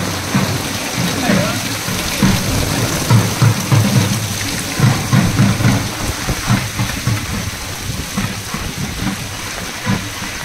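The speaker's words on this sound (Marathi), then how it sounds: "आमच्या घराकडनं निघता निघता जोरात पाऊस येलो" Steady heavy rain pours down in a continuous broadband hiss, with rumbling low thuds and voices talking faintly underneath.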